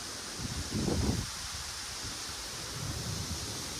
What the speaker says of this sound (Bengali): অসম্ভব বাতাসের শব্দ